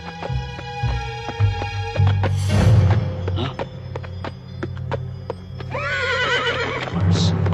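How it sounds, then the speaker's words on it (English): A horse gives a loud, shrill neigh, then a second quavering whinny, with hooves clip-clopping between the calls and faint cartoon-style background sounds. "Sure are a funny-looking horse, aren't you, boy?"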